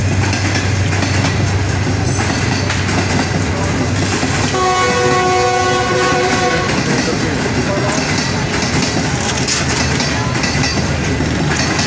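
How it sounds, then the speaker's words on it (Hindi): A train rumbles past near the old Ravi bridge in Lahore, a loud, continuous roar with a horn sounding for a few seconds midway, heard close up. "अभी मैं पुराने रावी पुल से ट्रेन का मंजर दिखाता हूँ आपको"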